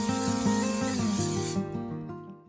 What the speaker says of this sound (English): I'm going to go ahead and spray my crock pot